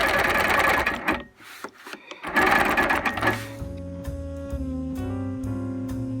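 Long arm quilting machine stitching a quilt with a zoo-themed pattern, running with a fast, steady mechanical whir and repetitive pulsing that pauses briefly mid-way before picking up again, close and fairly loud.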